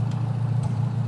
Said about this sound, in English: Well, I got a running engine